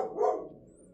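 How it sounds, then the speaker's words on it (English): A single short dog bark rings out nearby indoors, then fades into quiet room tone. "And that's my dog."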